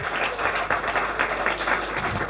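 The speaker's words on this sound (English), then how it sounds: "big round of applause for Tarran" Audience applause for a speaker, a soft, steady wash of many hands clapping at some distance, even and unbroken throughout.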